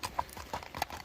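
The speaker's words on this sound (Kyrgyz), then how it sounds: "Тору ат." Hooves of a bay horse clip-clop in a quick, close, uneven series of sharp knocks, heard alone without talk.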